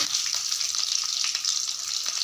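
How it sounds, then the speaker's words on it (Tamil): Green chilies sputter in hot oil, crackling steadily with sharp little pops scattered through a constant frying hiss, close by. "பச்சை மிளகாய் கொஞ்சம் எண்ணெயில் போட்டோன்னே வெடிக்கும்"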